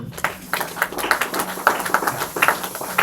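A church congregation claps in praise of the Lord, a run of fairly loud, somewhat uneven rhythmic claps that carry through the whole stretch, with faint murmuring beneath.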